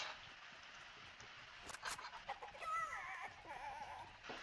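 A chicken clucks in a video game, a few short squawky calls rising in the second half over faint background noise, fairly quiet and close.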